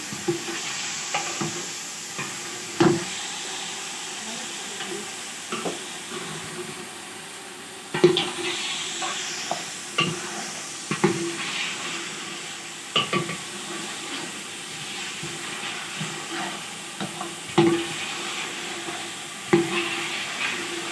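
Mutton pieces and green chilies sauté in masala in a pot, a soft background sizzle broken by sharp, irregular scrapes and knocks of a spoon stirring against the pan.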